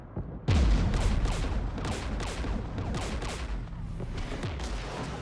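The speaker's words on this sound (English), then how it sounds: "We're taking fire" Rapid gunfire in Mass Effect 3, a dense burst of shots and booming impacts that begins with a sharp onset and keeps up steadily, loud and close, with no talk.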